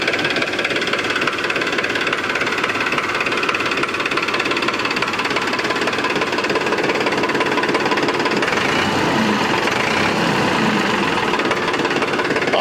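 A Massey Ferguson 1035 DI tractor engine runs steadily at idle, a close, continuous diesel knock and rumble with a constant vibrating texture throughout.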